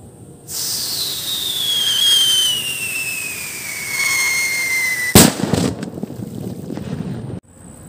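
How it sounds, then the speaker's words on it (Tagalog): A homemade striker firecracker shrieks with a long whistle that slowly drops in pitch, then bursts with a sharp, loud bang. Faint crackle and rustling follow before it goes quiet. "Sipol siguro to, bago putok."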